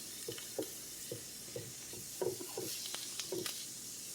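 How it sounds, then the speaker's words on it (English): Chicken taco stuffing for zucchini boats sizzles in a hot frying pan with a steady crackle, broken by a few scraping stirs. "So you can hear that sizzling."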